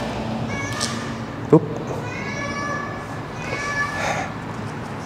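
A cat in an abandoned 1990s glass factory gives several drawn-out meows near the microphone, while someone talks over them and a single thump cuts in partway through.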